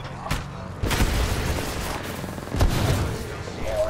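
Apex Legends gunfire crackles in rapid, loud bursts over a dense mix of game noise, with sharp impacts and booms layered throughout.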